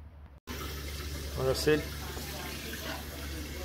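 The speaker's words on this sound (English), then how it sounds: "I'll let that tap run for 5 minutes or so to cool it down" Cold tap water running steadily over cooked crayfish in a pot, a constant splashing stream with a few louder gushes, under a man's speech.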